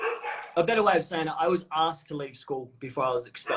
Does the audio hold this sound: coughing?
no